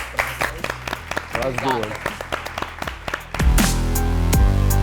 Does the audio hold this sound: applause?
yes